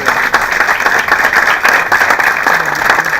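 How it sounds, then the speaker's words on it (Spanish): Conference audience applause for economist speaker Aldo Pignanelli at a provincial budget forum in Buenos Aires, a dense, loud, sustained wash of many hands clapping throughout. "Aldo Pignanelli, lo despedimos con un aplauso."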